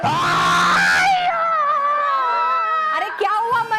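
A man screams loudly after hitting his finger with a hammer, a sharp strained cry that drops into a long, wavering wail, then breaks into a few choked yelps close to the listener.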